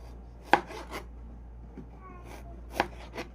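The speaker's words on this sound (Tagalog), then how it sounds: "Pagkabalat po, slice lang po natin ito ng maninipis." Peeled ginger being thinly sliced with a knife for homemade candied ginger, two sharp cuts on a board spaced a couple of seconds apart, with softer scraping in between, quiet and close.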